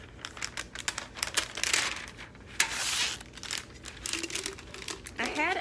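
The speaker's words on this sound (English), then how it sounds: "So now I'm going to put the shrink wrap on it" Plastic shrink wrap crinkles and crumples around a 20 oz skinny sublimation tumbler, close and fairly loud in irregular bursts, with a brief higher rustle near the end.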